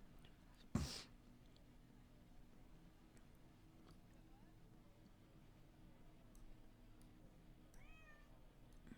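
A cartoon cat meowing in the video game Hidden Cats in London, one short loud meow near the start, then faint chirpy meows near the end over a quiet background.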